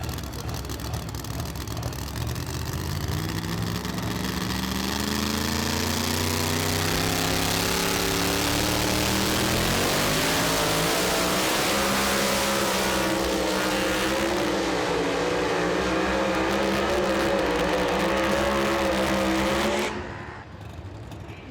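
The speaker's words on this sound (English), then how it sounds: "And we'll end the category here with one more 2-wheel drive truck." A super modified two-wheel-drive pulling truck, the high-maintenance machine of Tony Fleming, roars loud and sustained at a pulling league event, its engine climbing and straining steadily for about twenty seconds before cutting off.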